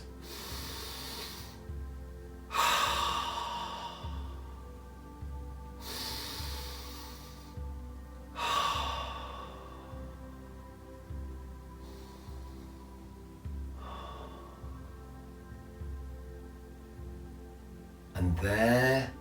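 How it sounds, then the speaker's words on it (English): Slow, deep breaths in and out repeat steadily and close up, each a soft airy rush, while a low pulsing tone continues beneath and a sharper gasp comes near the end. "concentrate on your breathing, in and out, deep breaths."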